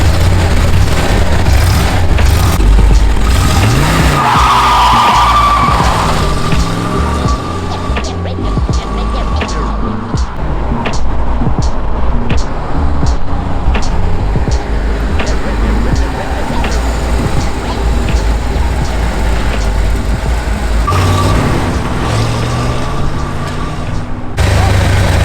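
A 1974 Chevy Corvette with a 454 big block rumbles through the streets of Tijuana, Mexico, its loud low engine drone steady throughout with traffic and street noise around it.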